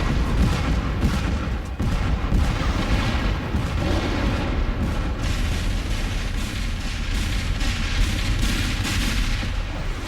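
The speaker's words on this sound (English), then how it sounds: "the Civil War began when Confederate cannon opened fire on Fort Sumter" Dense cannon bombardment of the kind aimed at Fort Sumter in 1861, with rapid overlapping booms and rumbling blasts rolling continuously and loudly, with no let-up for ten seconds.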